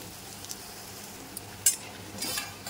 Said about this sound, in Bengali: আমি এবার ডুবো তেলে ভাজছি না, অল্প তেলেই ভেজে নিচ্ছি